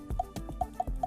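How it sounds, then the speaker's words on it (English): Amapiano djembe sample layered with a wood block, programmed in FL Studio: a quick pattern of dry, knocking hits with short pitched wooden clicks between them, rhythmic and isolated. "an Amapiano djembe sound, and then coupled with a wood block"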